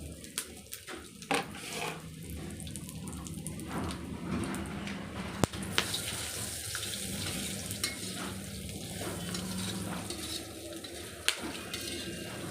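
Dry scraping and stirring as spices are roasted in a pan with a little oil, with a few sharp metallic clinks, a soft hiss underneath, and faint background noise throughout.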